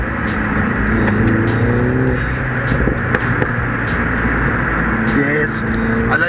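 A turbocharged car, a small rally-style Mini Cooper or Suzuki Cappuccino driven off-road, pulls hard under boost; the engine's rising harmonic drone is heard from inside, loud and close, with a brief shift mid-run and road rumble beneath.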